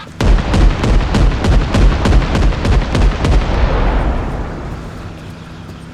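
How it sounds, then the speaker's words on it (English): Armor-piercing rounds from a light armored vehicle fired at a vehicle's commander machine gun during platoon training: a rapid, loud string of heavy shots in a steady rhythm, fading into a rumbling echo and then quiet. "Can you put like 5 AP rounds into the commander MG since it's wiggling?"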